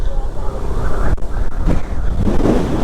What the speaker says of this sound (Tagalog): Eh, grabe yung hangin, di kaya.